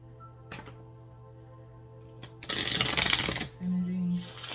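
Brief riffling bursts of tarot cards being shuffled, close and fairly loud, after a few quiet taps, followed by a low hum.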